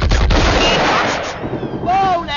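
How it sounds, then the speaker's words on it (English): Heavy gunfire from a movie battle scene, loud rapid shots hammering at the start, then trailing off as shouted voices and music come in. "Whoa there, stop firing!"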